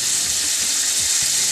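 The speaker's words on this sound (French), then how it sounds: "Dans une poêle chaude, je mets du beurre." Butter sizzling in a hot frying pan while making Indian street-food pav bhaji, a steady close hiss that continues throughout with faint clinks underneath.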